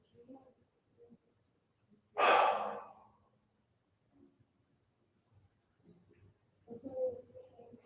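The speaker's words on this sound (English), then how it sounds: "Close your eyes and just take a couple breaths." During yoga rest a person takes a slow, deep breath, one long loud exhale standing out close up, with fainter softer breaths before and after in an otherwise quiet room.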